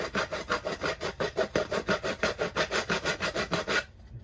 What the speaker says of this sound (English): So one of the tools you could have is a rasp.